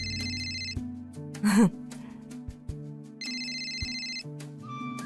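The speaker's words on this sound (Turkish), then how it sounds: "Aç bakalım telefonu." A mobile phone ringtone in a Hindi drama scene, a repeating electronic tune ringing in two clear bursts with a brief vocal gasp between them, fairly loud and close.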